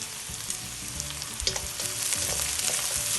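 Red peppers sizzle and crackle as they drop into a pan of frying garlic for Hakka noodles, a close, steady frying hiss with scattered pops and light scraping, no voices.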